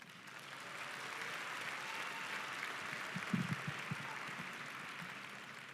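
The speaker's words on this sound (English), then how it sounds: "Give yourselves a round of applause" Graduating high school class applauding at a commencement ceremony, a steady wash of distant clapping from a large crowd with a few sharper claps standing out near the middle.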